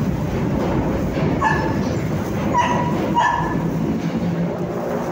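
Dogs yip and bark a few times in short bursts against a loud, constant background rumble.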